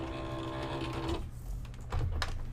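A craft cutting machine pulls in a cutting mat loaded with shirt material, giving a steady mechanical whir with tonal motor lines that stops partway, followed by a few soft clicks and thumps nearby.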